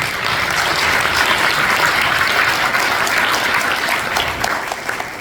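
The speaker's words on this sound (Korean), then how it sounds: "다시 한번 뜨거운 박수 부탁드립니다" A lecture audience applauds warmly and steadily, a dense patter of clapping that fades slightly at the end.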